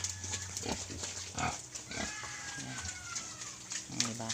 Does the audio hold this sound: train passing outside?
no